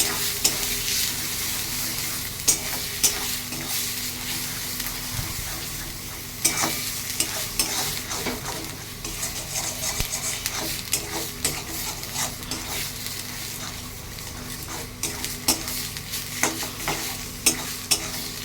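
Kharkol leaf paste fries in a pan, a steady sizzle under repeated scraping and knocking of a spatula as it is stirred, close and continuous with no talking.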